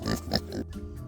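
Homestead pigs grunt and oink up close, a couple of short snorting calls followed by softer grunts.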